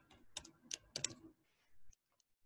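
Typing on a computer keyboard while entering a short program, heard as a quick burst of close, crisp key clicks, then a pause and a few faint scattered taps.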